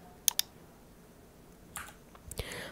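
Two quick, crisp computer mouse clicks sound close and isolated against near silence, followed later by a few fainter clicks and soft handling noise.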